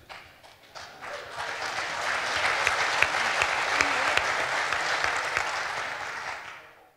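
An audience claps, building from a scattered start to a dense, steady round before tapering off over about seven seconds, with no talk over it.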